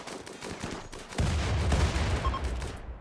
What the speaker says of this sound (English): Shoot those melee units.